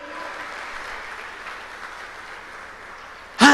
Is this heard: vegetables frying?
no